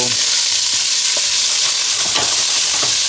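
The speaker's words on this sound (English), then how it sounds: "I'm browning the zucchini." Zucchini browns in a hot pan for pozole verde, giving a steady close sizzle with occasional stirring scrapes.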